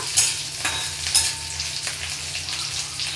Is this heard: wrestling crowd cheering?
no